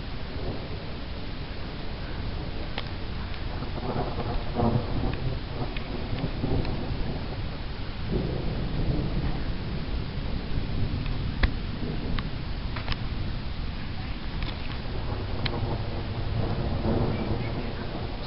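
A thunderstorm rolling through the Lehigh Valley: steady heavy rain hisses throughout while deep thunder rumbles rise and fade, with a few sharper crackles. No one speaks.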